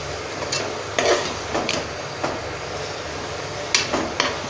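Fenugreek leaf biryani stirred in a pan, with a spoon scraping and clinking in irregular bursts against a steady background hiss; no voices.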